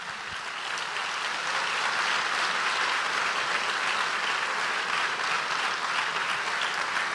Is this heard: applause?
yes